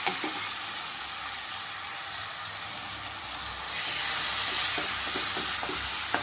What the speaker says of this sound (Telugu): ఇవి వేగిన వెంటనే గ్రైండ్ చేసి పెట్టుకున్న ఉల్లిపాయ ముద్దంతా ఇందులోకి వేస్తున్నాను